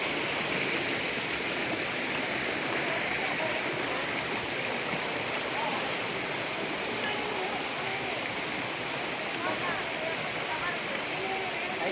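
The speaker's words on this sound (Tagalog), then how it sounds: "Kasili Falls." Steady broadband rush of Kasili Falls, a waterfall in a natural outdoor setting, roaring continuously and evenly throughout without breaks, close and loud.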